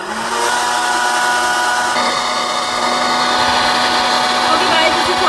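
Hot air popcorn maker blowing steadily, a loud, close whirring fan with a constant hum and no breaks, like a hair dryer.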